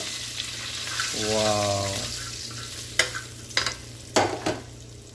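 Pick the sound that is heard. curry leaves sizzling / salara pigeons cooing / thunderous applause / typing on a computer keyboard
curry leaves sizzling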